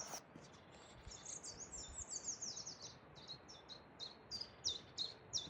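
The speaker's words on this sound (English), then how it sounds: "I love the noise of birds." Outdoor birds chirping on a hiking trail in Northumberland: a run of high, quick twittering calls repeating throughout, fairly faint over a soft background hiss, with no talking.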